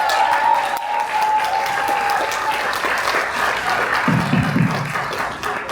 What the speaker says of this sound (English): give him one more big round of applause for it, please